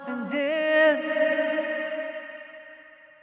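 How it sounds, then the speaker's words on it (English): Sung ad-lib vocal phrase in Logic Pro with the high end rolled off and reverb added, a single sustained, tuned voice line that lingers and decays into a soft echoing tail. "I like to take a lot of the high end off, put a reverb on it, and tuck it back"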